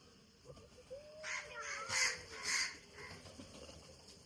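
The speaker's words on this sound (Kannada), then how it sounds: "ಕಾಗೆ ನೋಡಿ ಎಷ್ಟು ಬಂದಿದೆ." Several crows caw in short bursts around a house, two louder calls standing out near the middle over low background noise, with no one speaking.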